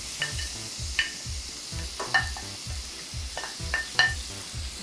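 Onion is added to garlic already browning in a pan, giving a soft, steady sizzle broken by rhythmic scrapes and clinks of a utensil stirring about once a second, close and clear.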